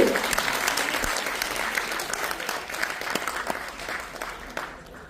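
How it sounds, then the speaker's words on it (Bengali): Dance theatre performers receive applause from an audience: continuous, fairly dense clapping that stays even at first and then gradually thins and fades toward the end. "এদের সবার একটা হাততালি দরকার নয় কি?"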